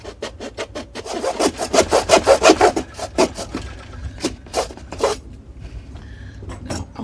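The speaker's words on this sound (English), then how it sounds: "Now what I'm going to do is I'm going to cut it. This is just a hacksaw blade" A worn, bent hacksaw blade cuts through a dried gourd in rapid rhythmic rasping strokes, close and fairly loud, slowing into more spaced strokes near the end.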